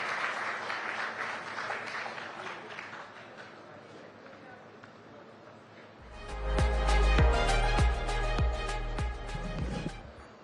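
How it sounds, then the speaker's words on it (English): Audience applause at a large media summit, a steady crowd clapping under a voice, then music with a heavy beat and sharp percussive hits cuts in halfway and rises over the fading claps. "A big round of applause, ladies and gentlemen."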